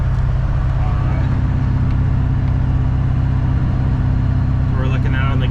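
Ford 6.0 Powerstroke diesel pickup with a non-VGT turbo setup and a FASS lift pump, driving with a steady low engine drone and road rumble throughout, while someone talks over it.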